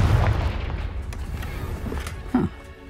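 A Confringo blasting spell from Hogwarts Legacy goes off in a deep boom with rumbling low end, followed by a short sharper burst later, all heard without any talk.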